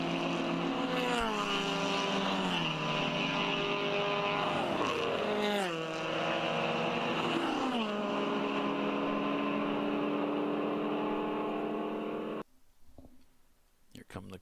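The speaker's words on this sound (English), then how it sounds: "Here come the cars through the bend." Endurance race cars, including Corvette, Porsche, Cadillac and Camaro, roar through a bend at Road America, engines rising and falling as several pass in quick succession, loud and close, then cutting to quiet near the end.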